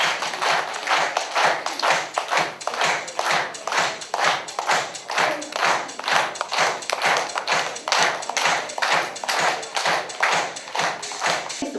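Audience applause welcoming a robot costume contestant at a costume contest, rhythmic, evenly paced group clapping in unison, steady and fairly close, continuing throughout with no talking.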